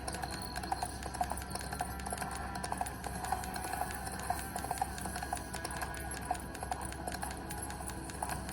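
A horse's hooves clip-clop in a steady trotting rhythm while riding in a video game played on a handheld gaming PC, with faint game ambience underneath and no speech.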